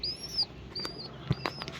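A tame pigeon chick chirps in thin, high peeps, several short calls over a couple of seconds, mixed with a few soft flutters and knocks nearby.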